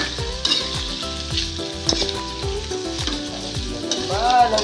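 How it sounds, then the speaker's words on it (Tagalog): Pork frying in a pan for binagoongan: continuous close sizzling with rhythmic stirring scrapes repeating through the clip. "Nilagay ko na po yung pork."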